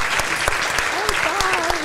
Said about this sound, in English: So please join me in giving them a round of applause to welcome them.